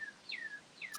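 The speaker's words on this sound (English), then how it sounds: "I'm listening to the birds chirp there." Faint bird chirps: a few thin, rising-and-falling whistled calls against a quiet background, with a short high tweet near the end.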